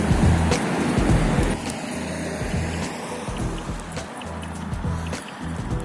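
Road traffic rumbles steadily on a city street, with passing vehicles and a low engine drone while someone walks and crosses the road. Intermittent clicks and small knocks sit over the noise.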